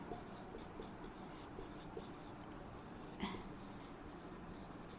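A marker or chalk scrapes across a board in short, repeated strokes, faint and close over a steady background hum, with no one speaking.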